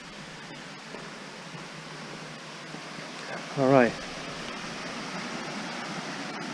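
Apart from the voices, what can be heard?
Bears Den Falls waterfall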